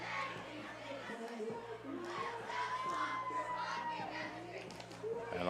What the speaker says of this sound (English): Cheerleaders from both sides kind of getting together and doing some like dancing and cheering right in the middle